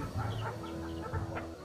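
Low, throaty clucking from hens close by, a few short bursts over a couple of seconds against a faint steady hum.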